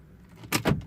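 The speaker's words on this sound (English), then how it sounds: "And now I'm gonna turn the key." A key turns in the ignition of a manual Fiat 500 with a no-crank fault, giving two short close clicks and jingles from the key and fob. The starter stays silent and no engine sound follows.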